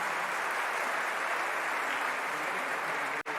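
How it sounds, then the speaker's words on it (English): An audience at an interfaith harmony celebration applauds volunteers, a dense, steady wash of clapping from a large crowd that holds throughout at moderate volume with no talk over it. "they deserve a round of applause"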